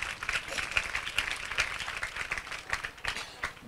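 A congregation at a Telugu Christian worship service claps hands together in lively applause, with sharp, fairly rhythmic claps sounding near and loud over a murmuring crowd.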